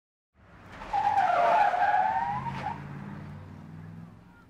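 A van speeds away with a sustained tire screech and engine roar, swelling loudly after a brief silence and then fading slightly as it pulls off, alone with no talk.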